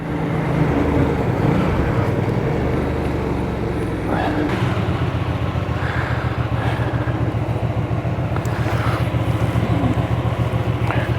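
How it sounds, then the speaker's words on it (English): Hyosung GV250 motorcycle engine idling steadily after a kickstart, a close, continuous rhythmic thrum with some wind noise over the microphone. "kickstart down, bike's running lovely"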